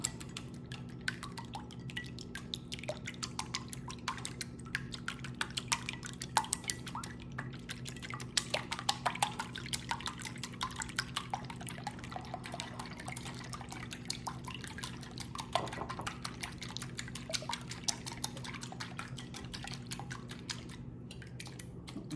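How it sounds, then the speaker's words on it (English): Milk added to two cracked eggs in a bowl and stirred, heard as a steady run of small liquid drips, clinks and light taps against the bowl over a constant low hum, with no talking. "We're gonna add our milk and stir those up."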